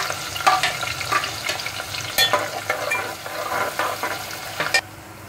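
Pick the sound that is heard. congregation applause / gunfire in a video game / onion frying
onion frying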